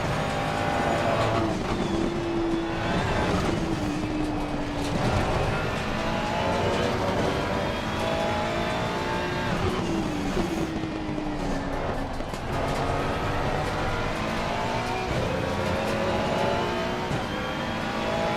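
A Ferrari 296 GT3 race car in the Assetto Corsa racing game at Imola drones on steadily, its engine pitch climbing and dropping through gear changes. The loud, continuous note carries on with no speech over it.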